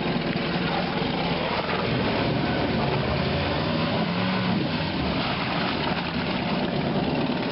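Honda BF75 four-stroke outboard motor running in gear, a steady, even engine drone held at constant level throughout, close by, with no voices.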